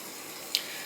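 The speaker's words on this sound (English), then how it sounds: "It's the space heater going right now because I am cold." An indoor space heater runs in the background as a faint, steady broadband hiss, with one tiny tick partway through and no voices.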